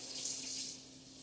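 Tap water running steadily into a microwave-safe dish to cover pork chops, a continuous close hiss that eases off slightly toward the end, with no talking.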